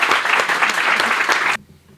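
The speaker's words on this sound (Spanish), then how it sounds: "un aplauso para todas nosotras." Applause at a women's recognition event, a burst of dense clapping from a gathered group that stops abruptly after about a second and a half.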